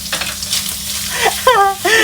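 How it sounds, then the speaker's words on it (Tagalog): Garlic, chili and ginger frying in a pan for spicy Indian-style sausage masala, a steady close sizzle with stirring scrapes and short clinks over the two seconds. "Ilalagay niya na ang kanyang mga garlic, chili, and ginger."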